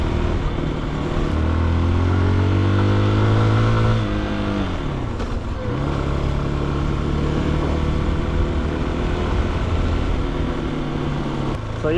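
A CFLite Dual 250 dual-sport motorcycle is ridden on an outdoor trail. The engine revs up, drops back, then settles into a steady drone close to the rider, with wind noise and some talk over it.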